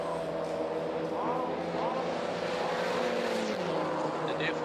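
Touring race cars, a Volkswagen and a Porsche Cayman, racing in the Baltic Touring Car Championship, engines whining and shifting in the distance under a commentator's voice.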